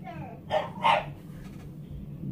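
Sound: dog barking outside

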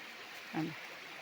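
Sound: stream of water flowing

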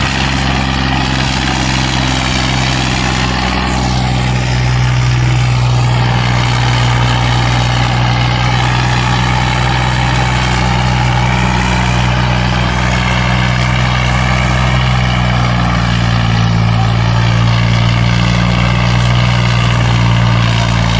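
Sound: tractor engine running under load

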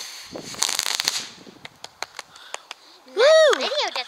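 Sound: Crazy Groundhog firework going off

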